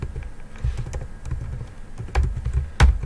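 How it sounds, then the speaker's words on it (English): Typing on a computer keyboard: a quick run of soft key clicks at an irregular rhythm, close and clear over a quiet background, ending in a louder key press. "we're simply going to be typing in FLW dot get attribute"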